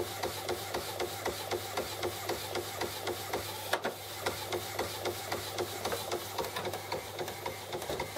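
Epson WF 7210 inkjet printer running a high-quality image print, with a quiet rhythmic mechanical chatter of repeated clicks and shuttling strokes over a steady low hum, continuing for several seconds without talk.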